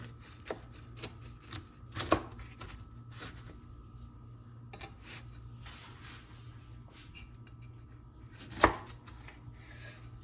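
A knife cutting into a baked tomato and herb galette, with a few crisp crunches of the crust standing out against quiet scraping and light handling sounds.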